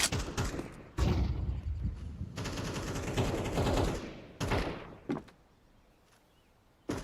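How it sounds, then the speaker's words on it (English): A flashbang grenade goes off in a video game, with loud, dense bursts of blast and gunfire-like noise lasting several seconds, broken by brief gaps and thuds, then trailing into quieter noise. "Grenade out! Throwing the flashbang!"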